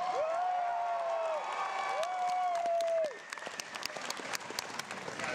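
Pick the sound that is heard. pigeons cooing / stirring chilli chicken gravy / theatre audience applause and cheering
theatre audience applause and cheering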